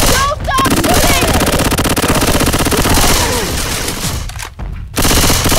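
Rapid automatic gunfire from Left 4 Dead 2, loud and continuous bursts close up with brief gaps, under excited players' voices.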